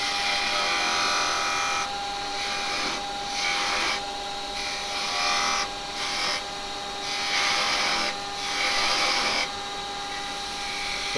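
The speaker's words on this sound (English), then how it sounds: "I'm going to actually bring this in a bit here with a skew chisel." Skew chisel cutting wood on a lathe, making a steady scraping, rasping hiss that swells and eases in repeated passes every second or so, close and continuous with no talk.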